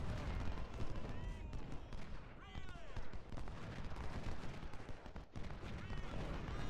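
Artillery fire and dense gunfire from a Civil War battle in the strategy game Ultimate General: Civil War, a continuous rumbling barrage of booms and crackling volleys with faint voices mixed in.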